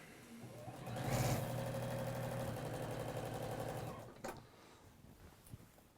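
A sewing machine back-stitches a man's shirt, its steady motor whir building loud and close for about three seconds before stopping, followed by faint handling clicks.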